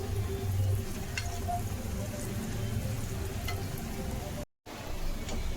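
Veg keema roasting in a pan on the stove, a steady soft sizzle and crackle at low level throughout, with faint stirring scrapes and a brief dropout near the end.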